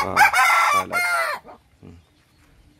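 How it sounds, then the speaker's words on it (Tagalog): A rooster crows loudly and close by in one long, strained call, followed by a couple of short clucks and then near silence; a voice briefly speaks after the crow. "Pasensya na sa manok, maingay talaga."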